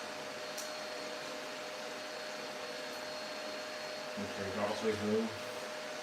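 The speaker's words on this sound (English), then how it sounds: "robot hoover going at the minute" A robot hoover runs in a home, a steady, fairly loud broadband whir droning under the whole stretch while a person speaks briefly near the end.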